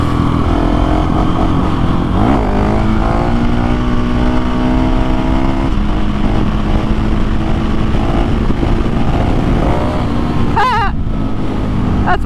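A KTM 701 motorcycle ridden on the road, its single-cylinder engine droning loud and close with rising and falling revs under steady wind rush.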